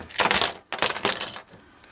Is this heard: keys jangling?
yes